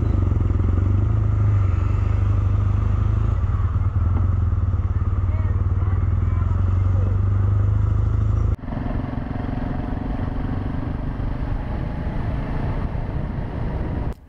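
Motorcycle riding through the Wakhan Valley in Central Asia, a steady close engine drone with heavy wind buffeting that drops slightly in level partway through, then continues to the end.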